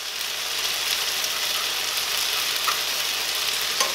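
Tortillas toasting in a hot pan give off a soft, steady sizzle with faint crackles throughout, close and even, with no talking.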